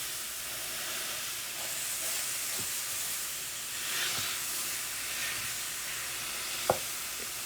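Hamburger meat, partly frozen, browning in a pan with a steady loud sizzle and hiss throughout, a few faint clicks and one sharp tap near the end.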